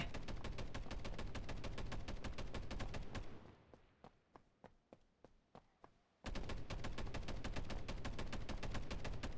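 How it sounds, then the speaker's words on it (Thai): Rapid bursts of automatic gunfire in the mobile anime battle royale shooter BTX, loud and rhythmic, pausing briefly to sparser, quieter single shots before the heavy firing resumes. "ได้ยินเสียงปืนอยู่แถวนี้นะครับ"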